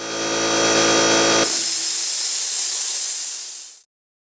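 An air compressor with a faulty check valve hums briefly, then gives a loud, close, steady hiss of escaping air that runs for over two seconds before cutting off abruptly into silence.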